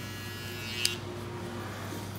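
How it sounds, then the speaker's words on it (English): An electric shaver runs behind the ear during a skin fade at a barbershop, a faint steady buzz with a brief sharp click near the middle and no talking. "So now we're gonna go in with the shaver."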